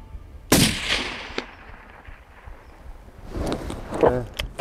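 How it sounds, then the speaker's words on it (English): A single loud rifle shot booms close by during a South African hunt for grysbok, fallow deer or springbok, its blast fading into open quiet, followed by people talking. "Okay, gonna shoot that."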